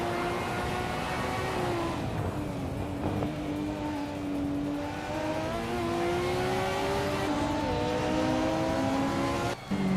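Simulated race cars, including a 1992 BMW 318i in the BTC class, in a video game race: engines whine and rise and fall through gear changes, loud and continuous, with a brief dropout near the end and no talking.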